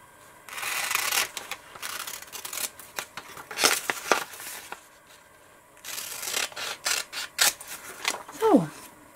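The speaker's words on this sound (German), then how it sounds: "das kann ich auch mit der Schere machen" Scissors snipping through paper or card during a late-night craft session, a series of short crisp cuts and rustling handling noises up close, with a few bursts and pauses.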